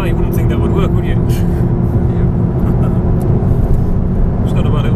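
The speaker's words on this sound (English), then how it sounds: "It's not bad for a 300 horsepower front wheel drive car." A 300-horsepower front-wheel-drive 2011 Ford Focus RS engine drones steadily from inside the moving car, a loud constant rumble with road noise, as people talk over it.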